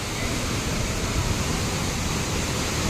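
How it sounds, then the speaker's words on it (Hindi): Tiger Falls, a waterfall dropping roughly 100 feet, pours in a steady, dense roar of broadband rushing water that stays constant and close throughout, with no voices over it. "गजब का झरना"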